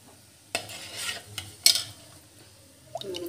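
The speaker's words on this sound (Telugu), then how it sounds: "సో అందులో కొంచెం మనం ఆవాలు వేసుకోవాలి. అండ్ కొంచెం జీలకర్ర," Mustard seeds and cumin sizzling in a hot pan while being stirred, with sharp scraping stirs and soft crackling bursts up close, no voices.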